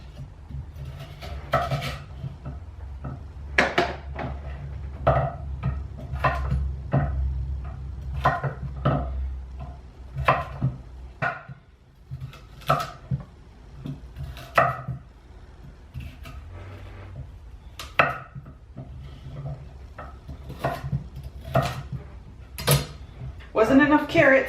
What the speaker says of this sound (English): cut the ends off and chunk them up big and put them in there big